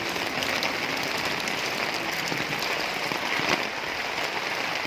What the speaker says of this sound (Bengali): এই যে দেখুন বৃষ্টি